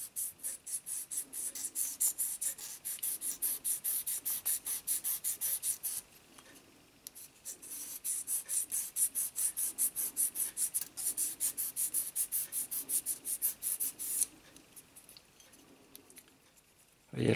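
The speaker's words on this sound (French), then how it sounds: "Et elle fonctionne vraiment bien," A hand file rasps back and forth across a Liberty Walk LB Ferrari 458 model car body in rapid, regular strokes, close and crisp, with a brief pause midway before the even filing rhythm resumes.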